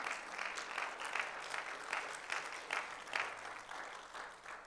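Church congregation applauding throughout, a steady wash of many hands clapping at moderate level with no clear voices over it.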